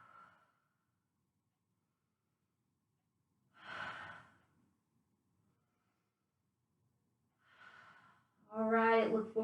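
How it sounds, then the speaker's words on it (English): Slow, full yoga breaths, inhaling and exhaling in a quiet room, with soft airy breath sounds separated by long silences and a louder voiced exhale at the end. "3 full breaths here. Full inhale and full exhale."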